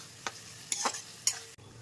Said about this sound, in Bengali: এবারে লো ফ্লেমে আস্তে আস্তে এটা হতে দেবো, তাহলে চিকেনটাও সেদ্ধ হয়ে যাবে আর আমার এই ইনগ্রিডিয়েন্টসগুলো ভালো মতো এর সঙ্গে মিশে গিয়ে ভাজা ভাজা হয়ে যাবে।